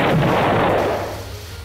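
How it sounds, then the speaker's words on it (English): In a Touhou bullet hell video game, a rocket launch lands as one heavy booming blast that rolls and fades over about a second and a half, with no voices. "I'm shooting rockets now."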